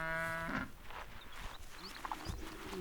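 Cattle grazing in an African highland herd give one deep, drawn-out moo close by, followed by quieter rustling and faint sounds from the herd.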